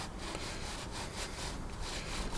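Oil being rubbed by hand onto a rusty outdoor grill to prepare it for summer, a steady scratchy scrubbing with quick back-and-forth strokes, close and continuous with no talking.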